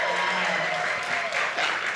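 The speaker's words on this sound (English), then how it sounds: "he deserves that clap." An audience at a summit gives a brief burst of applause, dense and continuous, while faint murmuring voices sit underneath the clapping.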